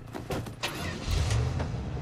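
A car engine turning over in Far Cry 6, preceded by a few short clicks and clunks, then a low rumble catching and idling, fairly quiet.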